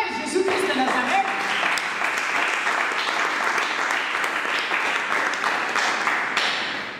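A church congregation at a French-language worship service in Gatineau, Canada, breaks into sustained loud applause and cheering that fills the whole stretch, with voices mixed in among the clapping.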